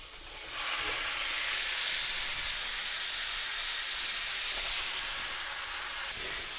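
Sous vide London broil searing in butter in a hot cast iron pan, giving a steady, loud broadband sizzle and hiss that swells early and holds constant, with no talking.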